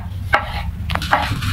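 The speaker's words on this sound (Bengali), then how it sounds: "এখন আমি টমেটো কেটে নিচ্ছি" A knife chops tomatoes on a board in a few separate sharp knocks, close and distinct, with quiet gaps between them and no voices.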